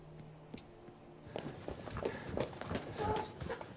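Massed footsteps of a large crowd marching together as a movie sound effect, soft at first then a dense, rhythmic tramping that grows louder and nearer over a few seconds.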